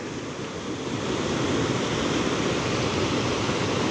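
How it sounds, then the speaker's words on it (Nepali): Broad, steady rushing roar of a big river flowing, loud and continuous like heavy surf, swelling slightly after the first second and holding steady, with no voices. "तपाईहरुले यस्तो ठुलो खोला देख्न सक्नुहुन्छ"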